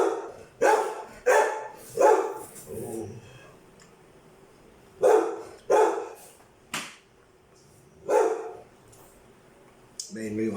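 A dog barks in sharp, loud bursts close by, first three quick barks, then a pause, then two more, a single one and another after a gap, with a low hum underneath.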